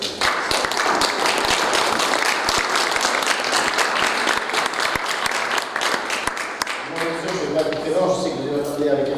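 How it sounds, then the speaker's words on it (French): An audience at a union meeting bursts into applause, a dense, loud wash of many hands clapping that thins out and fades near the end as a voice begins speaking. "On peut les applaudir déjà."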